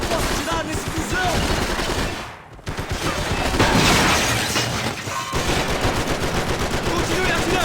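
Rapid, loud gunfire from a firefight in the video game Max Payne 3: dense overlapping volleys that keep pounding with only a brief lull, with voices breaking through now and then.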